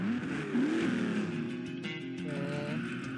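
Racing engine from the Beach Buggy Racing video game: a steady, continuous motor drone with a wavering pitch that climbs and settles, running loud throughout with no voices.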